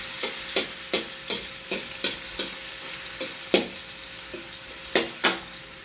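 Garlic sizzles in hot oil in a pan while it is stirred for chopsuey. A steady fry hiss runs underneath, broken by regular clacks of a spatula, close and fairly loud.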